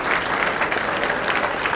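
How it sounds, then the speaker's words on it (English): An audience at a tournament prize ceremony claps in a dense, even burst, a full hall of hands blending into a steady wash with no voices standing out. "A big round of applause for the Diamond Winner"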